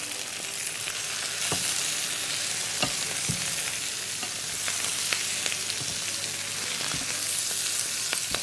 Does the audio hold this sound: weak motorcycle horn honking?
no